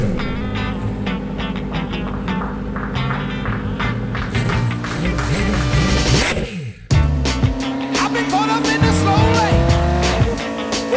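A Koenigsegg Jesko hypercar engine roars loudly as it accelerates, shifting pitch through gears, with a sharp break before the revving picks up again.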